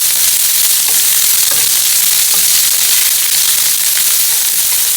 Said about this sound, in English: You know your pan is hot when you can hear that sizzle.